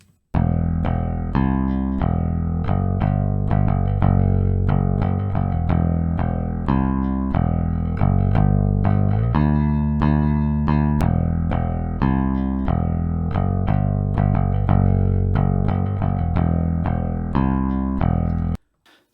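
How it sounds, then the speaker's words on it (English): A clean, unprocessed DI bass guitar playing a steady, even line of plucked notes, alone and consistent in level throughout. "so you can hear the clean DI on its own"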